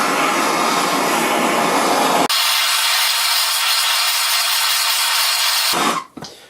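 A heat gun blows hot air onto a Porsche Boxster suspension bush while a Powerflex bush is being fitted, giving a loud, steady broadband roar that drops to a lighter hiss partway through and then cuts off near the end.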